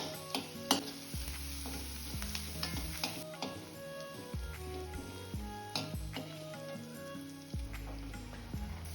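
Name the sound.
onions and ginger garlic frying in butter, stirred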